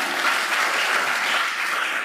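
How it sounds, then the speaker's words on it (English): Dense, steady applause from a large audience at a first-year university orientation welcome fills the whole stretch, close and even in loudness with no talking over it. "So we have been doing a lot of applauding"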